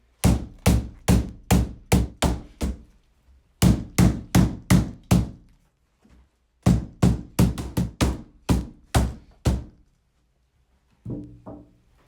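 A mallet taps parts together while a two-layer chicken cage with aluminum rods is being assembled, giving sharp, close knocks in quick rhythmic runs of six to eight blows, separated by short pauses, with a few softer taps at the end.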